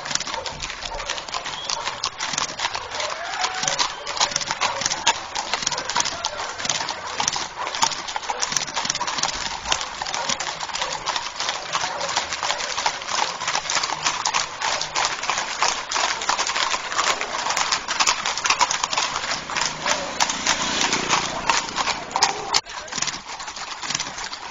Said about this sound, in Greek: έχει πάρα πολύ ωραία άλογα